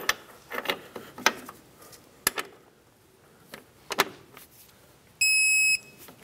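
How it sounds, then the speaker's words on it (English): Strut bolts on a 1997-2003 Lexus ES300 being torqued to 156 foot-pounds with a torque wrench: a scatter of sharp metallic clicks and taps, then a steady electronic beep near the end. "now let's torque them to 156 foot-pounds"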